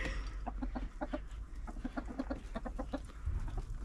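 Village chickens cluck while being herded back into their coop in a remote valley in Hunza, Pakistan, giving a busy run of short, close, repeated clucks over a low outdoor rumble.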